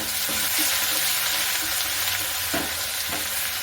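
Ginger garlic paste sizzling and frying in hot oil with mustard seeds, cumin, curry leaves and a pinch of asafoetida, a steady loud crackle with a few stirring scrapes, close up and without talk.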